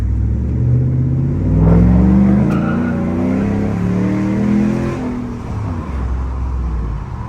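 A Ram pickup truck with over 160,000 miles and a bad alignment drives along, its engine droning and rising in pitch as it accelerates, loud and close, then easing off toward a steadier lower hum.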